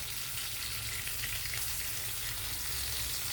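Okra frying in hot oil in a pan gives a faint, even sizzle that holds steady, with no talk over it.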